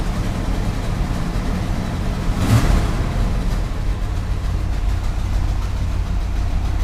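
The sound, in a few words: 1981 Chevy C30 Dually truck engine running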